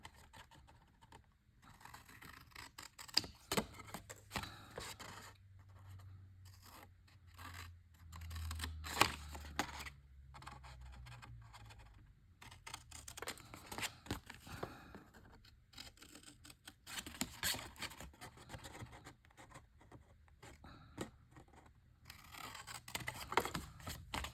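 Scissors snip through a cardboard K-Cup carrier along score lines, a series of faint, irregular crisp cuts and scrapes with quiet pauses between strokes and a low hum underneath.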